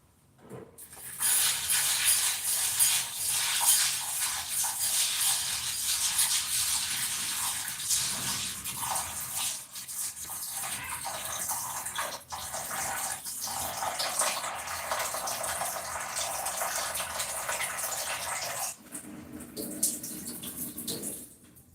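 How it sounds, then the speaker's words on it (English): Tap water runs steadily onto beans being washed for waakye, a continuous close rushing hiss lasting most of the time before cutting off near the end. "I'm going to wash my beans first."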